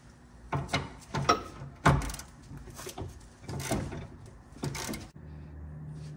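A wrench works a rear sway bar link bolt loose on a 2012–2017 Toyota Camry, giving several sharp metallic clunks and ratcheting knocks in uneven bursts, close up, followed by a brief low hum.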